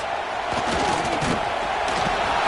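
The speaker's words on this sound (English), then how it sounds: "Hang on, Swoopy, the Buckeye crowd alive on 3rd down." A big Ohio State Buckeyes football crowd roars on third down in a home game against Indiana, a broad sustained stadium din with swelling noise and no clear words.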